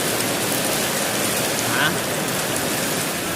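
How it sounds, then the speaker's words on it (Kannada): Rain pouring down steadily, a loud, even, close hiss of drops on surfaces with no break throughout. "ಮಳೆ ಹಿಂಗ್ ಬೀಳ್ತೈತೆ."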